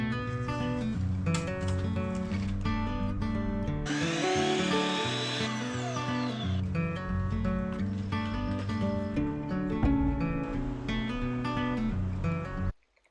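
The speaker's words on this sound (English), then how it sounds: "before we started drilling blindly" Power drill boring into a wooden header during a backyard porch build, with a loud steady motor whine and grinding, a harsher burst in the middle, continuing almost to the end before cutting off.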